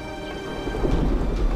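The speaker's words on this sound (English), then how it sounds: "they grow into massive thunderclouds until they burst in a torrent of rain" Heavy rain hisses while a low thunder rumble swells in the background, growing louder toward the end; an East African storm near Lake Victoria; no talking.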